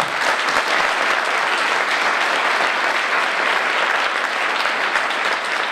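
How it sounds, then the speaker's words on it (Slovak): An audience at a Slovak folklore performance applauds, a dense, loud, even wash of clapping that holds steady throughout. "Prekvapili ma s týmto potleskom,"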